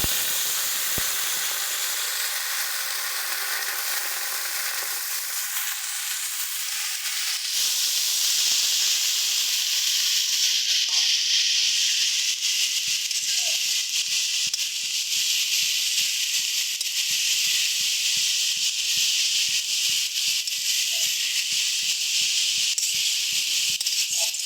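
Red amaranth leaves hit hot oil seasoned with dried chilli, a loud continuous sizzle and hiss that swells after the leaves go in and keeps steadily spitting throughout.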